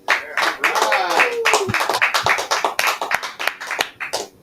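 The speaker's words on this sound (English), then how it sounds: "let's give a big round of applause" Enthusiastic audience applause: dense, steady clapping from many hands with a few cheers mixed in, loud and continuous throughout.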